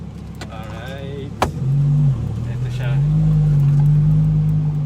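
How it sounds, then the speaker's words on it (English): Exhaust of an Audi R8 V10 with a full exhaust system, rising from a short blip into a loud, sustained low drone under revs. Someone speaks briefly near the start. "you can manage the sound or the sound of the exhaust system by not pressing the gas pedal too much"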